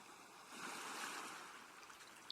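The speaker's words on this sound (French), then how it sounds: "Vous appréciez pour quelques minutes encore le bruit des vagues et des mouettes et la douceur de cette mer accueillante." Waves wash gently on a calm sea in a soft, distant rush that swells slightly mid-way and then eases. A faint, brief high call is heard near the end.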